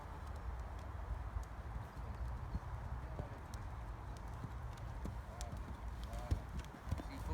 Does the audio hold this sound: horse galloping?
yes